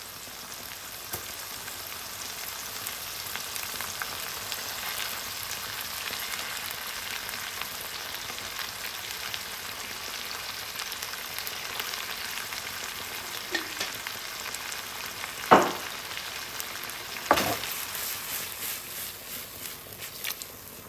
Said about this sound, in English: Just increase the heat, get it to a simmer.